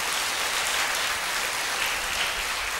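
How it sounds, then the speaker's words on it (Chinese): Steady, dense applause from a seated audience at a Buddhist lecture, a broad even patter of clapping with no talk. "我们先以热烈掌声谢谢海印古寺"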